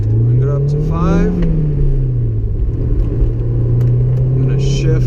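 A warmed-up Honda S2000 engine revs up steadily on a test drive, a loud droning rumble rising in pitch then leveling off, with faint cabin noises over it.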